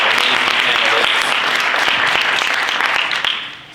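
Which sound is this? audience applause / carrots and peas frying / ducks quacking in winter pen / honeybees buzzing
audience applause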